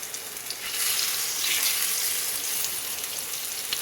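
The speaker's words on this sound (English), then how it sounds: "we're going to take our fillets and just lay them across onto the oil" Ostrich steak fillets laid into hot oil in a pan, a close, bright, continuous sizzle that swells as the meat goes in and holds steady.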